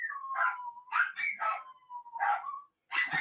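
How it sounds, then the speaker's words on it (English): Household dogs bark and yip in a run of short, bright bursts with brief gaps, fairly close and loud, joined near the end by a sharper cluster of barks. "Oh, my dogs are going to go now."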